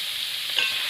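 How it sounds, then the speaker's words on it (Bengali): Shell-on prawns frying in hot oil, a steady close hiss of sizzling throughout a brief moment. "তেলটা গরম হয়ে গেছে, এবার আমি মাছগুলো দিয়ে দেবো"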